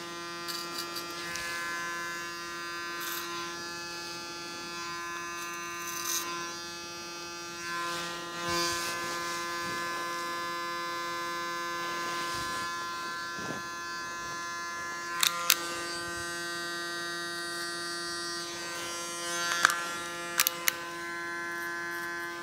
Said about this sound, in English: now we're going to go in and remove all this hair underneath that we don't need